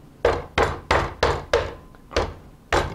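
A hammer strikes lobster shells covered by a rag in a kitchen: seven sharp, evenly spaced muffled thuds in a steady rhythm, close and loud, with no talking.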